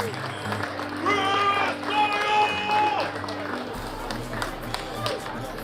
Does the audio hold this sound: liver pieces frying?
no